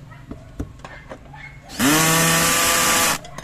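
Cordless power drill running during floor painting maintenance on a Mitsubishi Pajero, with one loud, steady, high whine of about a second and a half after some light clicks and handling noises.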